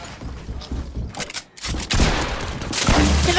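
Rapid bursts of gunfire from the video game Fortnite crackle in clusters, pausing briefly before a loud sustained volley, with player voices in the mix.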